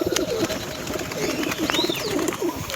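Several kept pigeons cooing close by in soft, repeated low coos that overlap in a steady, continuous murmur, with no talking.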